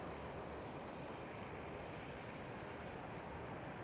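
An Air France airliner taxis at Amsterdam Schiphol airport, its engines giving a steady, loud, broadband roar that stays even throughout with no talking.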